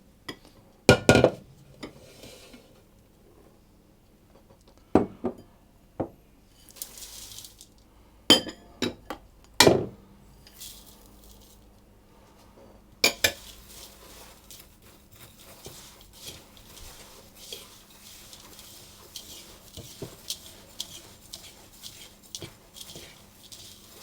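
A large bowl of flour, sugar, oatmeal and raisins being mixed by hand gives scattered sharp clinks of utensil against bowl, then quieter soft scraping and stirring sounds, close and alone without talk.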